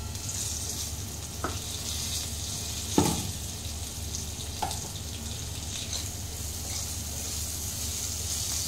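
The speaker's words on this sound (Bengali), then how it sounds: "এবার মশলাটা একটু ভাজা ভাজা হয়ে গেছে, আমি কাঁচা লঙ্কা দুটো" Two green chillies go into a spice mix already frying in a pan for a banana flower curry, giving a steady close-up sizzle throughout with a couple of brief utensil clinks.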